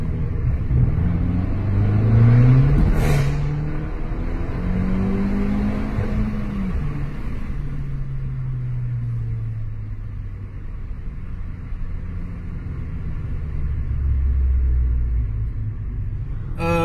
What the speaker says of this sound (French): Je vais mettre kickdown.